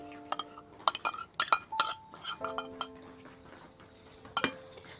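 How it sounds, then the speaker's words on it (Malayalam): A spoon clinks and scrapes against a vessel while garlic paste is stirred into a thick rice-water and neem cake pest spray, giving irregular close metallic taps and scrapes with brief pauses. "എന്നിട്ട് ഇത് നമ്മൾ നന്നായിട്ടൊന്ന് മിക്സ് ചെയ്തെടുക്കുക"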